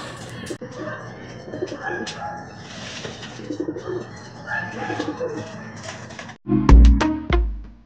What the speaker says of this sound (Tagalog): Nagdatingan ang mga ibon natin mga kalapatids.